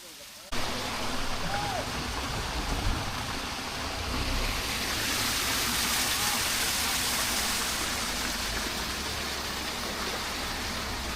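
Flowing stream water in Jim Corbett park makes a steady, loud broadband rush that runs without a break from start to finish, with faint voices in the background.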